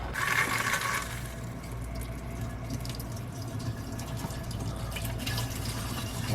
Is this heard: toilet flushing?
yes